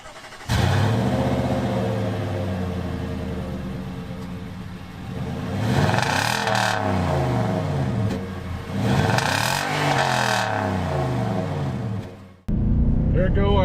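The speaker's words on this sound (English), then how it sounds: "let's listen to this engine, because this engine, I am using premium right now, but no matter what, it just sounds really good." A 2022 Nissan Titan XD pickup's V8 engine accelerates while merging onto a road, loud repeated revs rising and falling through gear changes, with the engine note dominant and a brief cut near the end.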